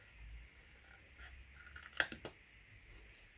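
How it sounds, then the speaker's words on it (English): Scissors cut through patterned paper for an explosion gift box with a few quiet, close snips clustered together against a faint, still background; no talking. "So I'm going to cut right up this large square, so we've got a large square flap."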